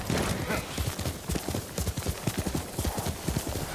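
A horse's hooves clop at a walking pace in a steady, close rhythm in Ghost of Tsushima's Iki Island expansion, with faint ambient sound behind.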